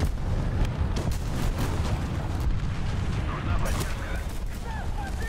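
Loud booming tank cannon blasts and rumbling explosions in the game War Thunder, with someone talking over the noise.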